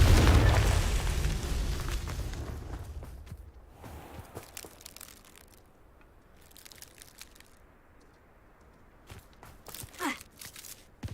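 A Confringo blasting-spell explosion in a Harry Potter video game: a loud, broad burst that decays over a few seconds, then quieter crunching, footsteps and scattered game effects, with a sharper flare near the end.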